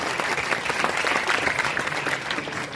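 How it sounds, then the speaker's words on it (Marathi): Steady applause from students at a school farewell ceremony, many hands clapping at once in a dense, continuous patter that holds at an even loudness throughout. "आपण सगळ्या विद्यार्थी मित्रांनी कृतज्ञतेने एकदा टाळ्या वाजवल्या पाहिजेत"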